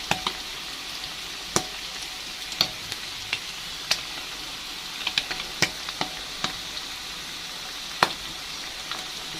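Oil sizzles and crackles steadily as tuna fish fries, with sharp pops and spits scattered throughout. No one speaks.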